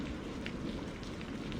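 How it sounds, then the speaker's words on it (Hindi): Steady rain falls in a dense, even hiss with scattered droplet patter, continuous and unbroken throughout, in a cartoon story scene by a riverbank near a hut. "बारिश भी हो रही है"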